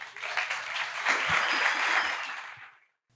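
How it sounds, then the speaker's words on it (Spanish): An audience at a cultural talk welcomes the guests with warm applause that swells, holds for a couple of seconds, then tapers off into near silence. "Un aplauso para ellos."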